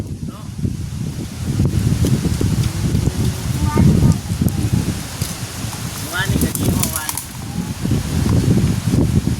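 Strong outdoor wind gusts buffet the microphone in uneven, rumbling bursts, rustling continuously beneath a person talking close by.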